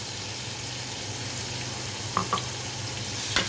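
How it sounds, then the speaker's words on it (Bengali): Onions fry in oil in a pot with a steady, close sizzle, and a few light clinks of stirring sound near the end. "পেঁয়াজটা একটু ভেজে নিই"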